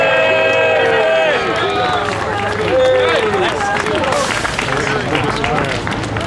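Vigil-goers rallying for Julian Assange greet Nick Brana with sustained clapping and cheers, a loud, close crowd roar thick with shouting voices that lasts the whole stretch.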